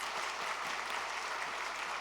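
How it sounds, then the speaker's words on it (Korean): A church congregation claps together in steady, dense applause that fills the whole stretch with no voices over it. "함께 박수 한번 하겠습니다."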